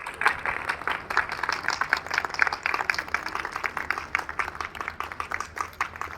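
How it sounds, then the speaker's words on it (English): Parents at a school Republic Day event clap for the children, a moderately distant, fairly steady round of applause with uneven individual claps audible throughout. "Parents, please clap for them."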